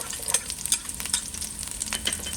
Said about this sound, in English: I'm going to add my onions. Going to add the garlic